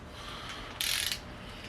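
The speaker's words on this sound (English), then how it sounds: "Here we are torquing down our cap" A torque wrench tightening a bearing cap on a 45-year-old Porsche 924 engine gives one short, bright ratcheting burst over quiet workshop background.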